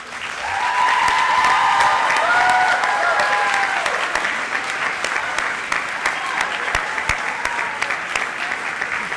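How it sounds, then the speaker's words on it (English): Graduates at an honors convocation give a loud, sustained round of applause for their family and friends, dense clapping filling the hall for the whole stretch before thinning slightly toward the end. "please offer your family and friends your applause and gratitude for their help and support through your education"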